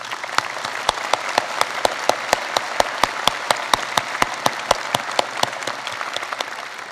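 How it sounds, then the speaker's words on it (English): A large crowd at a December commencement ceremony claps in unison, sharp synchronized beats repeating steadily about every quarter second over a bed of scattered applause. "Let's give them all another big round of applause"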